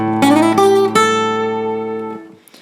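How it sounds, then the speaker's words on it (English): A short bass phrase, played on guitar: a few plucked notes sliding upward, then one sustained note ringing out and fading, alone and fairly loud. "The third phrase that the bass plays that you can use will sound like this."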